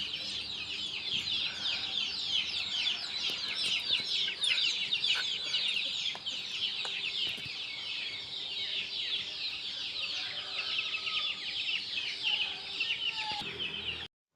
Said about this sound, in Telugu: పక్షుల పలకరింపులు చాలా బాగున్నాయి కదండి.